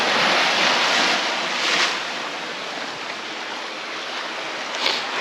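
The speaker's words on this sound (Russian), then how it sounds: "сейчас будет большая волна" A big wave breaks and washes along the shore of an icy winter Black Sea beach in Crimea, with a loud, broad roar of surf that slowly settles into a steady wash, with wind buffeting the microphone and no talk.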